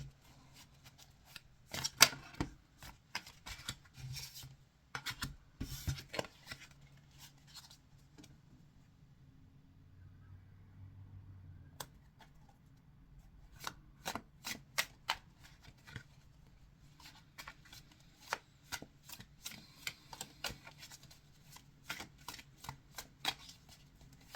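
Large tarot cards being shuffled by hand, a long run of crisp riffles and snaps in repeated bursts with a brief quiet stretch midway, close and fairly soft with no talking.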